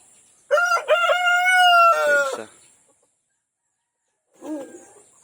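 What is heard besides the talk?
rooster crowing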